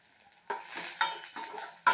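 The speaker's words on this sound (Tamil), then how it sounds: "இப்போது பொன்னிறமாக வறுபட்டுடுது பாருங்க" Radish greens stir-fry base frying in a pan until golden: repeated scraping strokes of a spoon through a quiet sizzle, with a metallic clink at the end.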